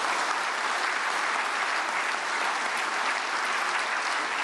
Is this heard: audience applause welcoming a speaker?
yes